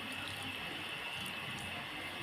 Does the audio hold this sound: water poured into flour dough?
yes